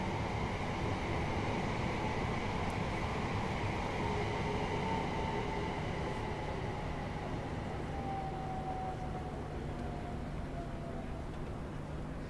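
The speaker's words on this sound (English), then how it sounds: "Sounds like we've got something coming in. There you go. There's a 377." A Class 377 electric train passing in the Train Sim World 4 game, a long steady rumble and whine with a faint high tone gliding down, heard without talk.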